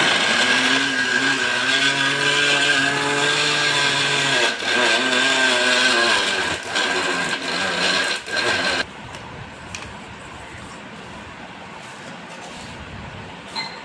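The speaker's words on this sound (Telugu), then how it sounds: "మిక్సీ జార్కి వేసుకొని నున్నగా పొడి కొట్టుకొని ఇంకో బౌల్లో వేసుకోవాలి ఫ్రెండ్స్." A mixer grinder jar grinding coconut laddu ingredients to a fine powder, with a loud, steady motor whir and a rattling jar for about nine seconds before it shuts off and quieter handling noises follow.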